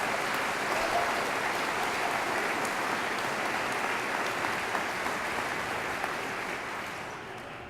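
Sustained applause from a large audience at a memorial service in the Indiana Statehouse, a dense steady wash of clapping that carries on without talk and fades slightly near the end.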